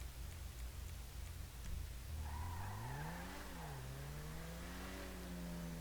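A free car in Grand Theft Auto V peels out, its engine revving upward in a rising, fairly quiet whine that holds after a low idle, with no talking.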